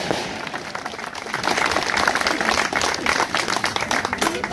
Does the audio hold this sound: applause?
yes